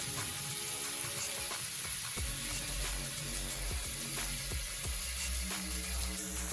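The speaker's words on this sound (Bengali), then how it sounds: "আর এদিকে মাছ ভাজা" Katla fish pieces fry in hot oil, a continuous sizzle and spatter running beneath other steady tonal background sounds.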